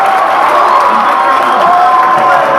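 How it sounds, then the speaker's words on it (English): Debate audience at Politicon 2017 cheering and clapping, a dense, steady roar of crowd noise with whoops rising above it, continuous and fairly loud throughout. "big round of applause for you"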